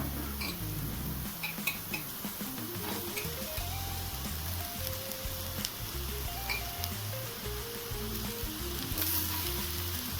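Rice being stir-fried with masala for Chinese fried rice, a steady loud sizzle with light stirring and tapping, while quiet background music plays throughout.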